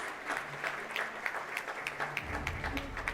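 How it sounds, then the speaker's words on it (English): Audience at a national management convention awards ceremony applauds recipients on stage, a moderate spread of clapping with soft peaks, fairly distant and alone without talk. "let's give them a loud round of applause"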